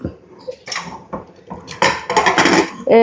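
A metal pot is set onto a stove, with several loud clanks and scrapes of cookware against metal, close by and without talk.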